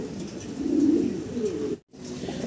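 Pigeons coo softly and continuously, a low murmuring that swells and fades. The flock is fancy Mondain pigeons, including a large young blue-bar bird, held at a pigeon seller's loft. A brief dropout interrupts the sound near the end.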